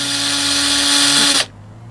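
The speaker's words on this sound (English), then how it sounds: "That's a drill!" A power drill in the GTA 5 video game whirs loudly at close range with a steady high-pitched motor drone, then cuts off abruptly, leaving quiet room tone.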